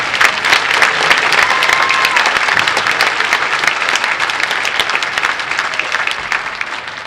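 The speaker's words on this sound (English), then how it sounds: "Let's give that a big round of applause." Audience applause fills a school auditorium after student pit orchestra music at an all-city band concert, a dense, steady wash of many hands clapping at close range for the full stretch, with no voices rising above it.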